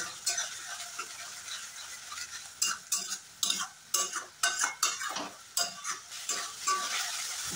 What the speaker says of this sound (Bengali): সব মশলার সাথে ভালো করে কষিয়ে নিতে হবে।